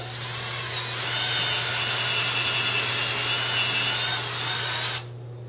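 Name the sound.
drilling hole in wood with twist drill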